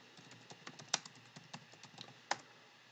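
Keystrokes on a computer keyboard as a keyword is typed, an irregular run of close, crisp clicks with a couple of sharper, louder key presses, heard alone without talk.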